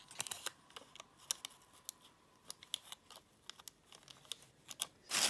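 Scissors snip through folded paper for a Christmas wreath craft, giving a quick run of sharp, close, crisp cuts at an irregular rhythm with small crinkles between them and no talking.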